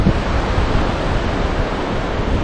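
Sea waves washing onto the rocky coast at Co Thach beach near Phan Thiet, a steady loud roar of surf mixed with wind buffeting, with no talk.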